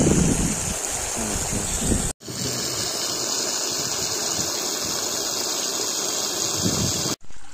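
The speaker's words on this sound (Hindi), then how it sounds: "तो अभी हमने बोरवेल चालू कर दी है," A borewell motor pumps water for a maize field, giving a loud, steady rushing and gushing roar that runs without a break except for two brief cut-outs.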